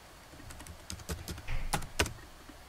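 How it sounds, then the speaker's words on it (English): Password typed on a Mac computer keyboard, a short run of quiet, close key clicks in an uneven rhythm, some taps doubled, heard alone without talk. "go ahead and type in that password that you use to log into your system"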